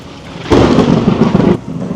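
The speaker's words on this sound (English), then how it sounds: "So I'm legit sitting in the middle of a thunderstorm right now." A thunderstorm with a sudden loud, close rumble of thunder bursting over steady rain, swelling for about a second before easing back to the rain wash.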